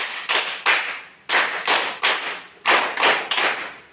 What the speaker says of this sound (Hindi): समूह ताली शुरू कर।